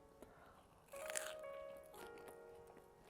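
A crispy homemade Crunchwrap Supreme being bitten, one loud close crunch followed by a second of softer crackling and chewing in an otherwise quiet room.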